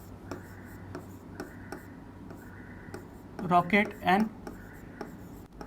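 Chalk or marker writing on a board during a physics lesson, with light scratchy strokes and ticks through the clip, and someone speaking briefly in the middle.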